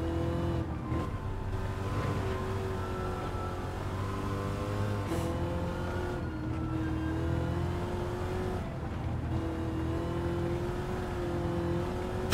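Engine of an unfamiliar car racing around the demanding Nordschleife in Gran Turismo 7, a steady loud drone whose pitch climbs and drops through gear shifts, continuous for the whole stretch with no voices.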